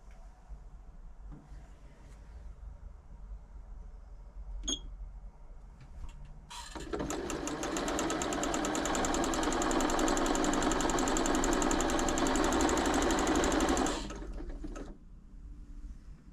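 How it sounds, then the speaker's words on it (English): A Janome Memorycraft 3000 sewing machine with a fault runs loudly for about seven seconds with a rapid, rattling mechanical chatter, preceded and followed by quieter handling clicks and a faint hum. "the machine started making a weird noise"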